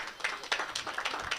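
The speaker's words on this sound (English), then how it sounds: "Please help me give this guy a round of applause" Applause for a guest at the Global Cluster launch event, a crowd clapping in a scattered, moderately quiet patter that stays steady for a brief stretch.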